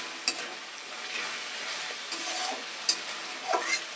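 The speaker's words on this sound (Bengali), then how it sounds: "আমি মশলাটা কেমন কষিয়ে নিচ্ছি" A spice paste fries in a pan while being stirred, a continuous close sizzle broken by a few sharp scrapes and clicks of the spoon, with no voices.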